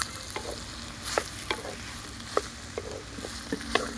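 Ridge gourd pieces stirred and fried with dried prawns, onion and tempering spices in a pan, Andhra style, give a steady sizzle broken by several sharp spatula scrapes and clinks, close and alone.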